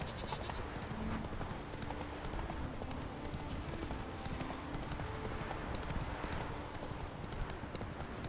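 Horse hooves clip-clopping at a steady gallop while riding in The Witcher 3, a continuous rhythmic pounding under a constant wash of ambient game sound.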